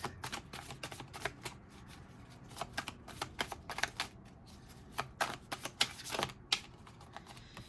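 An oracle card deck being shuffled by hand, a long run of crisp riffling snaps and soft slides in uneven bursts, close and clear, with no voices over it.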